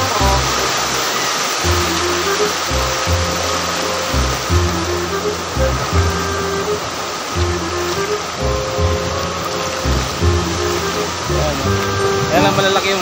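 Large ocean waves break on Bagasbas Beach in Daet, Camarines Norte, Philippines, as a steady roaring surf wash under intermittent voices and low rhythmic rumbling.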